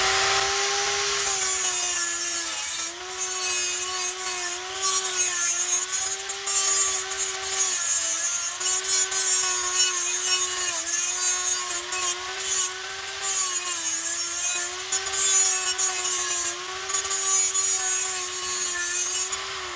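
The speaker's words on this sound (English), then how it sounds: "we're going to put a little notch right here, and just kind of grind it." A power tool grinds a notch into a wooden garden post, a loud, steady whine with a wavering pitch and gritty rasping, running continuously close by with brief dips and no speech.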